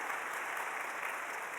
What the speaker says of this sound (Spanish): vamos a dar un aplauso, démoslo